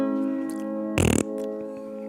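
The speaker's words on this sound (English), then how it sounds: "Eat that fart sound." A short, buzzy fart sound effect blares for about a quarter second over a steady, sustained piano-like tone.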